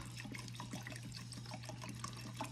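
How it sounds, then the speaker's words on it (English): Vodka pours into a mason jar holding a vanilla bean, a soft continuous liquid trickle and gurgle under a low steady hum, quiet and close. "with a cheap bottle of vodka, you are going to pour the vodka in with the vanilla bean"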